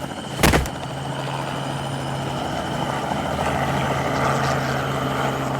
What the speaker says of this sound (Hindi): देखते देखते हेलीकॉप्टर गंगा के गांव से उड़ गया